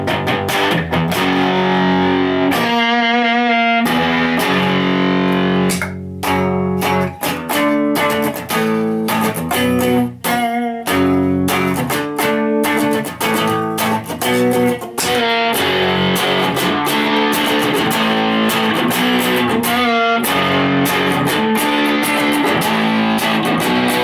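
An electric guitar played through a Boss DS-2 distortion pedal gives loud, heavily distorted chords and riffs, with a few short pauses and no talking over the playing.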